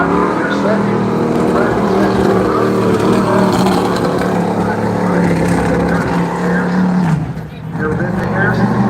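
Modified race cars roar around the track at Bowman Gray Stadium, a loud continuous engine drone with a pitch dip near the end, under an announcer talking.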